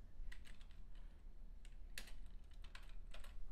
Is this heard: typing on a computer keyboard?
yes